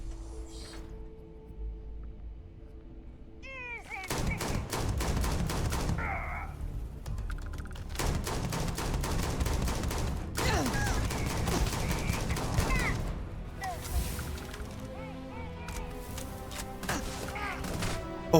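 Bursts of rapid gunfire in Starfield come in several loud separated volleys, each a few seconds long, with quieter gaps and game sounds between.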